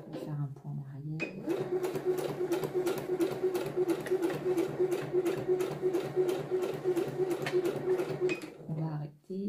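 A domestic sewing machine stitches trousers at a steady, rapid mechanical clatter for several seconds, starting and stopping around a backstitch, close up, with someone speaking French softly at the edges.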